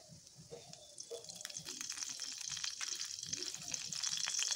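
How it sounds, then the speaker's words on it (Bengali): White oil poured into the middle of a pan while cooking paneer, a soft hiss swelling into steady, faint sizzling with light stirring and clinks in a quiet kitchen. "আবারও একটু মাঝখানে সাদা তেল দিয়ে দিচ্ছি।"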